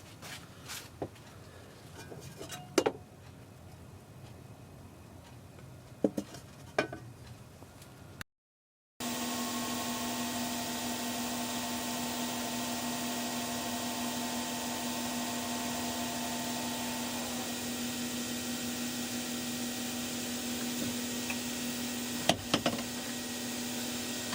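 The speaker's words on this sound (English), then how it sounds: "Now I'm going to sand this up and then part it off." A wood lathe spins up to a loud, steady whine while a turned wooden box is sanded, following quieter taps and handling sounds and a brief gap; the motor hum holds for the rest of the clip.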